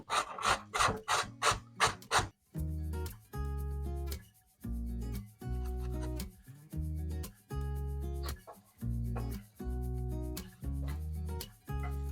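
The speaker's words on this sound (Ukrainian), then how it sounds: "Цибуля смажиться, морква натирається." A carrot is grated close by in repeated rasping strokes, a steady back-and-forth rhythm after a few quicker scrapes at the start.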